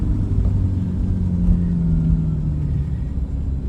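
Chevrolet C8 Corvette engine running steadily while driving, shifting up through the gears, a loud continuous low rumble with gentle pitch changes and no talk.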